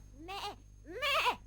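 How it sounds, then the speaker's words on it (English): Cartoon goat bleating twice, two close, loud wavering bleats with a brief pause between them against a faint low hum. "May I introduce Jolly, the smartest goat in the world?"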